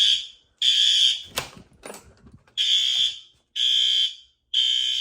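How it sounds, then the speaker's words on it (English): A fire alarm horn strobe in a garage bay sounds during routine testing, giving loud, even electronic blasts in a steady on-off pattern, with a few faint knocks in the gaps between blasts. "That horn strobe is good."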